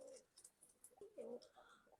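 Soft cooing of a Golden Commando white golden pigeon in a quiet setting, a few brief low murmuring coos with a short sharp noise at the very end.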